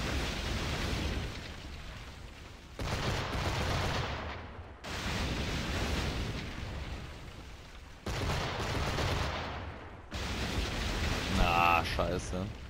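Ship cannons boom in Assassin's Creed IV Black Flag during a naval assault on a British fortress, repeated heavy broadside volleys in long rumbling bursts separated by brief gaps, with someone talking over the battle noise.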